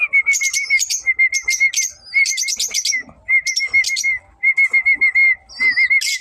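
Hand-tamed baby pigeons calling loudly up close, bursts of rapid high squeaky chirps and whistles repeated in quick clusters with short gaps.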